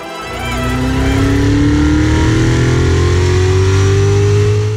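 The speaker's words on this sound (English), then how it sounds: "We're gonna put this on the dyno and run some bass lines." A 2019 Corvette Z06 engine revs hard on a dyno during a baseline run, its pitch climbing smoothly and loudly in one sustained pull.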